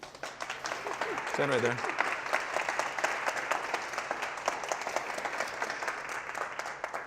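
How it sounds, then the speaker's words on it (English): Seminar audience applauding a volunteer called to the front, steady dense clapping throughout, with a voice speaking over it near the start. "All this applause is for you."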